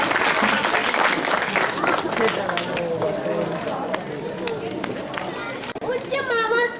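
Audience applause at a commemorative evening event in Pathankot as a young girl is called to the stage, steady crowd clapping mixed with chatter and children's voices throughout, ending with a voice rising at the close.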